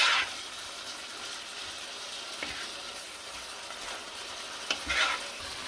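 Pad thai noodles being stir-fried and tossed in sauce in a hot pan, a steady close sizzle with scraping stir strokes and a couple of louder clatters near the end, no talking.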